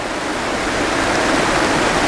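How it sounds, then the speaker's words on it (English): Heavy rain pours outside a greenhouse as a dense, even rushing hiss, steady and loud throughout with no voices or other sounds. "It's pouring rain outside, so it's like camping."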